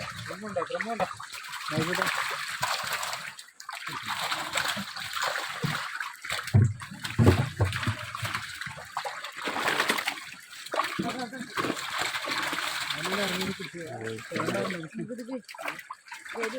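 Water splashes and sloshes as a 230 kg fish, raised in a one-cent pond, is dropped into a drum to drain, irregular bursts and trickles close by, with people talking over it.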